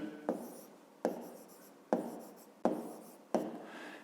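A pen writing out a fifth-grade maths exercise by hand, five distinct scratchy strokes spaced at a regular rhythm, close and dry with no speech.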